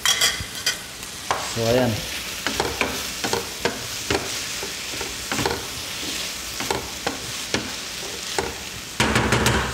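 Beef for a stew sizzles in a pan under steady frying hiss, while a utensil scrapes and knocks in repeated stirring strokes, close up; a voice speaks briefly at the start.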